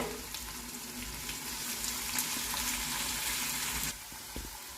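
Sliced onions with turmeric and salt fry in a hot pan, a steady, close sizzle that drops suddenly in level near the end.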